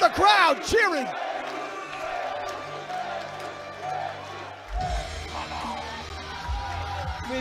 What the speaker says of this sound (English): Oh, listen to the crowd cheering.